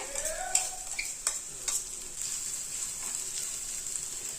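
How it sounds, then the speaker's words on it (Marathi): Masala sizzling and being stirred in leftover oil in a pan for a Maharashtrian okra (bhendi) curry, a steady close fry hiss with a few sharp scrapes of the spoon and no talking. "याच तेलात आता आपण केलेला मसाला टाकून घ्यायचा आहे"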